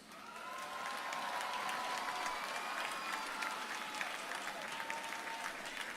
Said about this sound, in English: Look to the audience and give them a round of applause.